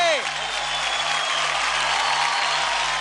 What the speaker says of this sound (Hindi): तो एक बार जोरदार तालियां हो जाए जय के झटांग फटांग अतुल के लिए